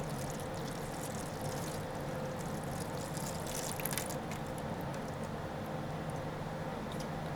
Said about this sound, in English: And I'm going to pour some water in the bottom of this tray.